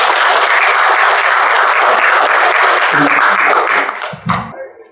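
A hall audience at a medical lecture gives loud, dense applause to welcome the speaker, sustained for about four seconds before tapering off with a few scattered claps.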